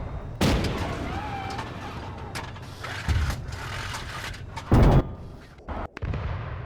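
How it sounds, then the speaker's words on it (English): Arma 3 battle combat: heavy artillery-style explosions and gunfire boom out in several loud separate blasts over a low rumbling battlefield background, with no voices. "It is just non-stop explosions up here."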